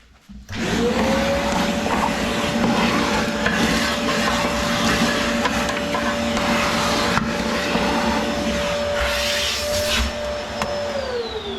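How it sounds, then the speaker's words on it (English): Vacuum cleaner sucking debris out of a small wood-burning stove, a loud sustained whine that starts abruptly, holds steady for about ten seconds and then winds down, with no talking. "Quick vacuum."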